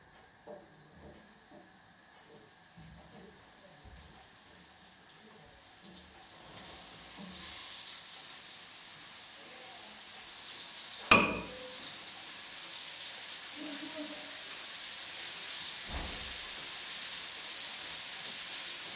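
Small fish frying in oil in a pan, a soft steady sizzle that grows louder after a sharp burst midway, with faint clatter early on and no talking.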